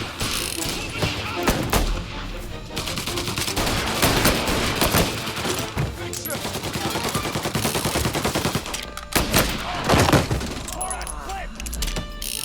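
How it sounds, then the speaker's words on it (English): Sustained rapid gunfire in the video game Mafia: Definitive Edition rattles in dense bursts with short pauses, mixed with mechanical clatter and occasional voices, loud and close. "Gunshots heard. Please respond."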